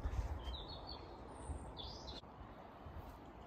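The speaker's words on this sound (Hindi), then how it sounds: "तो चिड़ियों के चहचहाने की आवाज़ आ रही है" A few scattered bird chirps rise faintly over a low steady outdoor rumble near a home, with brief tweeting calls in the first half and quieter air after.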